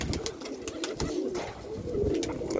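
Pigeons coo close by in soft, repeated throaty rolls, several birds overlapping with light flutters and rustles, no talk over them.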